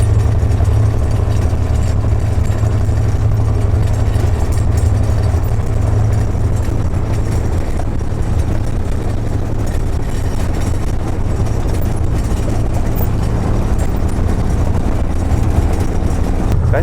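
A narrow-gauge diesel locomotive hauling peat on a rural line, heard from inside the cab: steady loud low engine drone with rumbling running noise, continuous and unbroken throughout.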